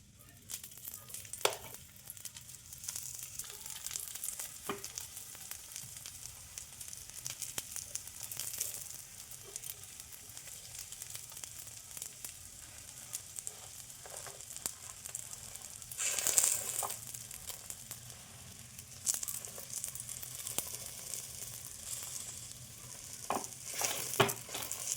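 Paratha frying in a little oil in a pan, a steady soft sizzle that runs throughout, with occasional louder crackles and scraping.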